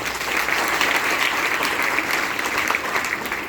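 An audience at a business meeting claps enthusiastically, dense steady applause from many hands filling the whole stretch at an even, fairly loud level.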